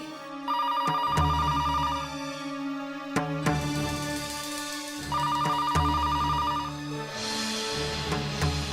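A telephone rings in repeated bursts with pauses between, an electronic ring tone that keeps going unanswered, with no voices.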